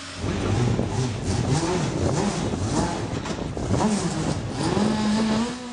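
Sports prototype race cars idle and rev on the starting grid at Motorland Aragon, a steady loud engine drone with rising and falling revs throughout.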